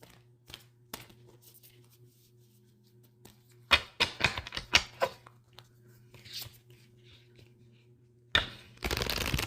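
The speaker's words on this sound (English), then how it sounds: "really is to shuffle these cards" Tarot cards being shuffled in a few crisp riffling bursts, with quiet pauses between them and a steady low hum underneath.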